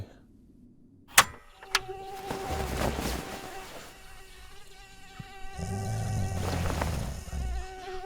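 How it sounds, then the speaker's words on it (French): A mosquito whines close by with a steady, high, droning buzz that holds for several seconds, broken near the start by a couple of sharp knocks. "t'avais un moustique sur la joue"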